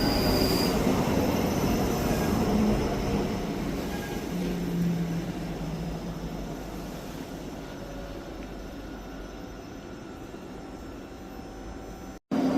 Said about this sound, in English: Departing out now is the 11:48 Scotrail service from Helensburgh Central to Edinburgh Waverley.